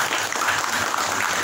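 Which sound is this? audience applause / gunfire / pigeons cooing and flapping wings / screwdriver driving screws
audience applause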